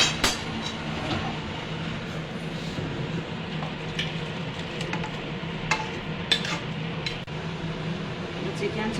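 Chicken soup is stirred in a pot, giving a continuous low churning and bubbling bed with faint scraping and a few small clinks scattered through.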